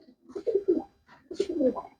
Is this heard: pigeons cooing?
yes